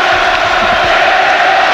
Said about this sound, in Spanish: se está cerrando este primer capítulo con una ovación